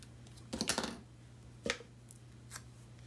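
Scissors trim paper strips for a border in a few short, crisp snips: a quick cluster of cuts early on, one sharp snip midway and a faint last one, close and quiet with no talk.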